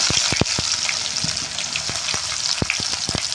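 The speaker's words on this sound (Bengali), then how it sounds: "কিছুটা পেঁয়াজ ছিল, এর মধ্যে দিয়ে ভেজে" Onion fries in oil tempered with dry red chilli and cumin for a chicken dish, a loud, continuous sizzle broken by repeated sharp clacks of a spatula against the pan.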